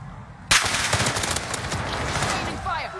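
Rapid automatic gunfire erupts in a video game battle, a dense sustained burst of loud shots that starts abruptly and rattles on continuously, with faint voices mixed in underneath.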